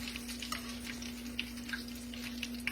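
Green tomato slices fry in a skillet, a quiet steady sizzle with small crackles and pops, heard close up and alone under a low constant hum.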